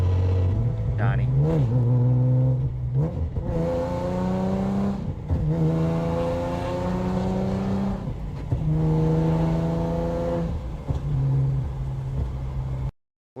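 A car engine revs repeatedly, rising and falling in loud, close, rough pitch sweeps with brief dips between pulls, heard alone until it cuts off at the end.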